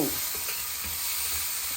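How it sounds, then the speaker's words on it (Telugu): Carrot pieces frying with tempering spices, chilli powder and salt in a pan, a steady loud sizzle under occasional scraping stirs, close and continuous. "ఒక మంచిగా తిప్పేసుకుందాం చక్కగా కలిపేసుకుందాం"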